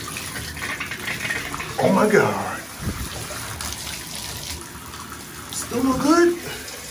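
A shower runs with a steady broad hiss of spraying water, close and fairly loud, while a person speaks and exclaims briefly over it.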